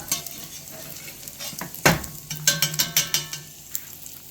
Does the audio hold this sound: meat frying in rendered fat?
yes